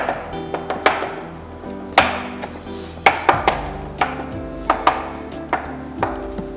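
A knife chops fresh veal on a board in sharp, close, uneven strokes, about a dozen hard thwacks with short gaps between them and a dull resonant ring under each stroke.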